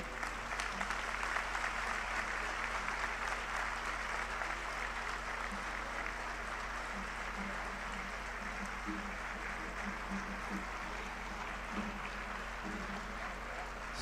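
Steady crowd clapping to welcome a governor at a Jain Panchkalyanak religious gathering in Guwahati, dense and continuous with a faint low hum underneath, holding evenly throughout.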